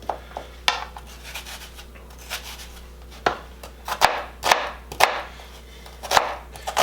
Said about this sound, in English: Couple horizontal cuts and then we chop them, and we got a nice chopped onion here.